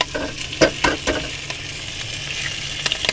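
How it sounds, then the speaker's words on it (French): A small egg sizzles in a frying pan, with a few sharp crackles and pops over a steady soft hiss, close and alone without talk. "On va mettre notre petit œuf dans la poêle"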